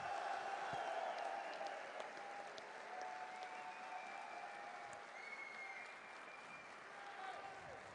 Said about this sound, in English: Let's give a big cheer for OGS Top, coming all the way from Korea,